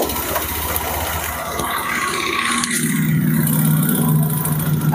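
A noisy Honda Vario 150 scooter engine runs steadily and loud close by, a rough mechanical drone with rattly texture that swells slightly toward the end.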